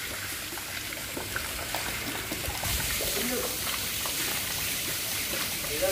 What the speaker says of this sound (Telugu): తిరుపతి మెట్ల నుంచి వెళ్తున్నట్టు నీళ్ళన్నీ వెళ్ళిపోతాయి